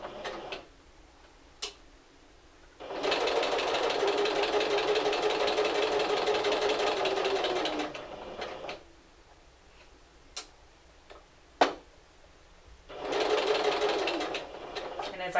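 A sewing machine stitches a seam on fabric for a Simplicity 1562 garment, running in two long bursts of rapid, even needle clatter separated by quiet pauses with small clicks and handling taps.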